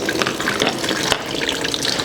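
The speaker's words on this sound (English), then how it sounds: "now that we took the pencils out and created those permanent holes, all the water is leaving the bag" Water streams out of pencil holes punched in a plastic bag, a steady close splashing and trickling that runs continuously without pause.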